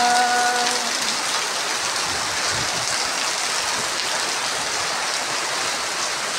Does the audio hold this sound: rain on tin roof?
yes